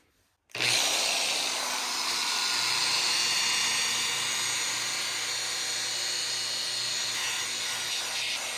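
Rotary polisher buffing a restored Vendo 81 Coke machine's paint with a polymer polish at about 2200 RPM. A steady, close, loud high whir starts abruptly after a brief silence and holds evenly to the end.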